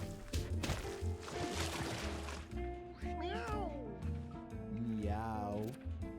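Two wavering cat meows from the video game Mewgenics rise and fall a couple of seconds apart over busy game music and effects.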